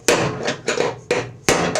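A hammer drives a drift against the bottom bearing of a Cub Cadet C-160G riding mower, giving four sharp metallic blows in quick, uneven succession, close and loud with no talk.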